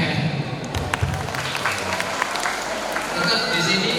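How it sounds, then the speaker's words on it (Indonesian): Audience of schoolchildren and parents at a motivational class event clapping hands, a dense, steady patter of applause lasting a few seconds with some voices mixed in. "Tepuk tangan."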